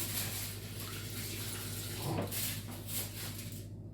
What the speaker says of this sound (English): And then I'll be adding the water in there.